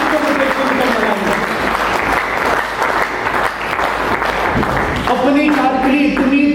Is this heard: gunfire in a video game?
no